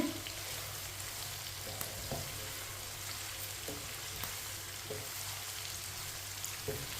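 Mixed pickle frying in hot oil, a steady soft sizzle with occasional faint stirring clicks and pops, quiet and continuous with no voices.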